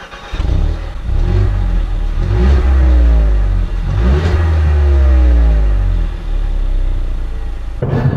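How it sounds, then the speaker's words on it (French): Mercedes A-Class engine with twin exhaust outlets accelerating through the gears, a loud close rumbling growl that rises in pitch twice with a gear change between, then settles and drops off at the end. "le bruit des échappements, j'ai 2 sorties de pot"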